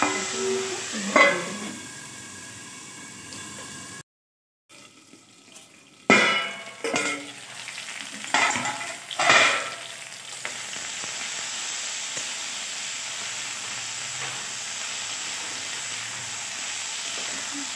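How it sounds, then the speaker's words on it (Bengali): Potatoes fry in a pan at home, starting with bursts of clattering and stirring amid short pauses, then settling into a steady, moderate sizzle that continues to the end. "এবার ভালো করে আলুগুলোকে ভেজে নিতে হবে।"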